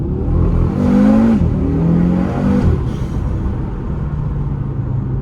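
An Audi RS3 engine revs up and down a few times with a throaty exhaust growl through an exhaust valve controller, then settles into a low, steady idle rumble nearby.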